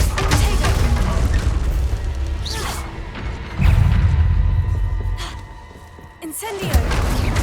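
Incendio fire spell cast in Hogwarts Legacy, a series of loud booming bursts, crashes and whooshes of flame, several strong hits spread across the stretch with a layer of effects and voice beneath.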